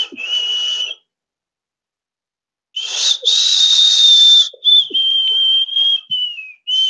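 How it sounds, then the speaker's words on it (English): A shrill whistle is blown in a short blast, then after a pause a longer sustained note that wavers and slides slightly downward, loud and close with no talking. "what looks to me like a sort of whistle, and I blow into it"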